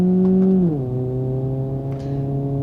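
Ibishu Hopper Classic engine in BeamNG.drive droning at steady high revs, the pitch dipping once and then holding a sustained, strained hum, alone with no talk.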